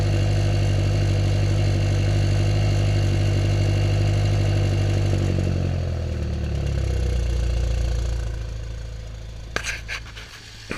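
A BMW X5M's engine idles at normal operating temperature with a steady, loud, droning hum that shifts and settles lower midway through, followed by a few sharp clicks near the end.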